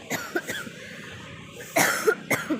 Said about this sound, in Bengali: বড্ড কাশি হচ্ছে